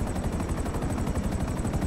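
Rapid, steady machine-gun fire rattles continuously in GTA 5 Online as a helicopter is shot at, with a dense chopping hum beneath the fast, evenly spaced bursts.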